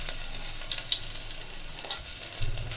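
Dried red chillies and crushed garlic fry in hot oil for a Bengali lau dal, a bright continuous sizzle with crackling pops and occasional stirring, close and fairly loud.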